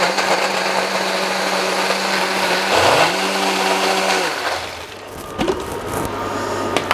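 An electric blender whirs through a black treacle and ginger toffee mix, its loud motor whine dipping in pitch partway through, then spinning back up before stopping near the end.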